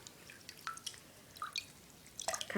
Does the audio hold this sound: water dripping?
yes